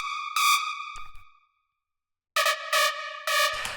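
A harsh, bright hard bounce screech synth lead screeches in bursts, bouncing between notes, then cuts to silence before returning in punchy stuttering hits.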